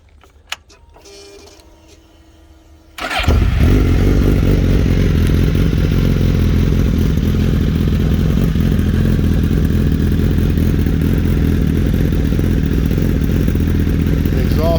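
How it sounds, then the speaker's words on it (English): A 2016 Suzuki GSX-S1000F sport motorcycle cranks and fires up, settling into a steady, close, fairly loud idle with a throaty exhaust rumble after a few quiet seconds. "let me fire it up so you can hear the exhaust."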